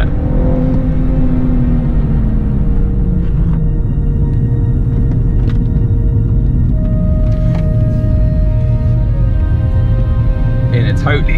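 A stock BMW M235 with an 8-speed automatic driving on Alpine roads, its engine a low steady rumble with tones shifting through the gears, heard from nearby beneath ongoing cabin wind noise.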